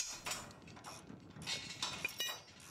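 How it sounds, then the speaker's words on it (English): Metallic clicking and ratcheting as the rear panel nuts with wing washers are loosened on a Delta crash cushion, a series of short, close, fairly faint mechanical clatters with brief pauses between them. "Release the rear panel nuts with wing washers."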